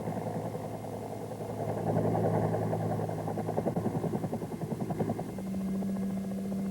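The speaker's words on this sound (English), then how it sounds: "A maximum performance takeoff is used to fly a Cobra out of confined areas over obstacles safely." A Bell AH-1 Cobra helicopter drones with a low engine hum and throbbing rotor chop that swells, pulses, then settles into a steadier tone, heard alone and moderately loud.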